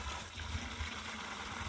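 Water pouring into a bucket, a soft continuous gushing rush with low sloshing, faint and steady throughout.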